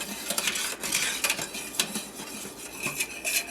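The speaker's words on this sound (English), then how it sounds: "stir until it thickens" A utensil stirring cream in a metal double boiler on an electric stove, with quick repeated scraping and clinking strokes against the pot, steady and close with no talk.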